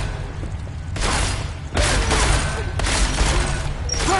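Bursts of video-game gunfire from Deus Ex: Mankind Divided come in three loud, broadband volleys about a second apart over a low rumbling background.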